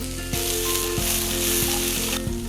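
Chili ingredients for sambal sauté in a hot oiled pan until wilted, a loud steady sizzle and crackle running throughout, with a few soft regular knocks from stirring.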